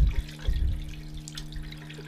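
Hot water runs steadily from a tap in an off-grid bathroom, a continuous close splashing rush with a low hum underneath and no talk.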